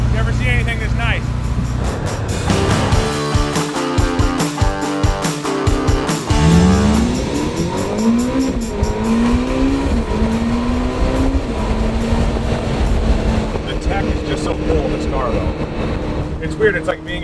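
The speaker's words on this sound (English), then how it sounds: "This is my first time driving an SF90." A Ferrari SF90 hybrid supercar driving, a loud steady engine roar heard from inside the cabin with rising and falling revs and a gear change whine, people talking over it.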